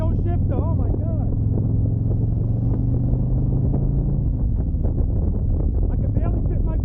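A 2021 Harley-Davidson motorcycle pulling onto a highway, its engine a loud, steady low rumble with wind buffeting the microphone and the rider talking over it throughout.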